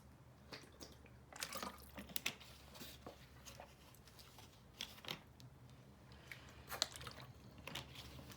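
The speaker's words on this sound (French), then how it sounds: "je bois un petit coup d'eau parce que je suis desséchée" Someone takes a small sip of water, soft faint liquid slurps and little swallowing clicks scattered over a few seconds in a quiet room, with no talking.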